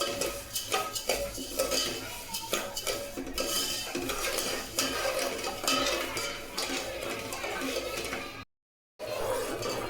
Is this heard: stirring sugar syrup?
yes